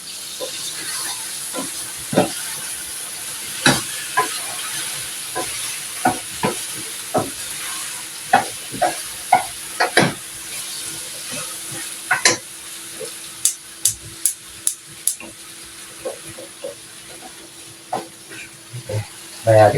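Eggplant sautés in a pot, a soft steady sizzle running underneath as a spoon scrapes and taps against the pot again and again, close and clear.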